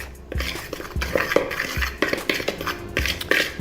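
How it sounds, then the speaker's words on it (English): Batter seasoned with smoked paprika whisked briskly in a bowl, a rhythmic run of clinks and scrapes of utensil against the bowl, close and clear with no talk. "So just give this a quick mix"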